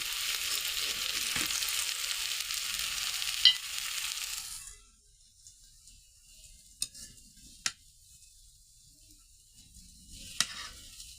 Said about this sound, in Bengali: এই যে টমেটোটা ভাজা হয়ে গেছে, এখন আমরা নামিয়ে নেব।